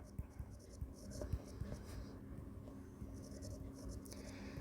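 Faint pen scratching on paper during a step-by-step exam-solving lesson, quiet taps and strokes under low room noise and brief soft speech.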